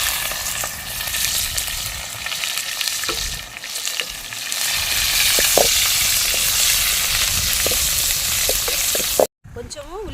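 Onions frying in a pan with cinnamon, cloves and green chillies, a loud dense sizzle with scattered pops and stirring clicks throughout, briefly cut by a dropout near the end.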